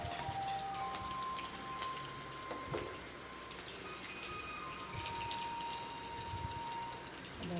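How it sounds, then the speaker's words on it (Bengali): Fish fat sizzling in hot oil tempered with chilli and whole cumin, a steady dense crackling hiss with fine popping spatters throughout, close and fairly loud. "দেখো এবার আমি মাছের তেলটা ছেড়ে দিলাম তেলে।"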